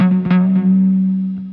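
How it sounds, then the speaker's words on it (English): An archery bow is struck by hand and picked up acoustically with added distortion, giving a loud, sustained buzzing drone with a few percussive knocks that ring on and slowly fade. "So I started hitting parts of it like this."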